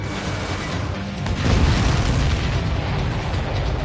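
Missiles blow up in the Ace Combat flight game, giving a dense, continuous rumbling roar that swells after a second and holds heavy and loud, with no voices.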